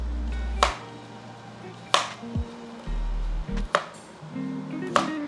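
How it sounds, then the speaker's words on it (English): A knife dices raw potatoes on a board, with four sharp, evenly spaced chops standing out clearly over a low background hum. "I'm just gonna cut my potatoes up"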